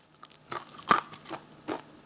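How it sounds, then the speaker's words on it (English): Someone bites into crispy, crunchy fried chicken. There are several sharp, close crunches in quick succession, the loudest near the middle, and no talking. "know you hear that crunch."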